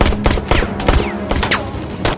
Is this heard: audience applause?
no